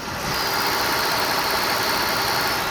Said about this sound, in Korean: 지금까지 12기통 차량 외관 실내 만나봤는데요. 대망의 엔진음 한번 들어보시죠.